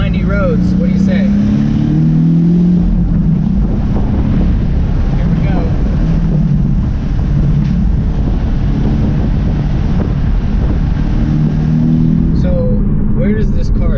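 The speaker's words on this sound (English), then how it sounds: "Now you definitely want to rev this car out and stay in the high RPMs" A Porsche 718 Boxster four-cylinder engine with manual gearbox revs high on winding roads, a loud sustained drone under heavy wind buffeting with shifting pitch throughout.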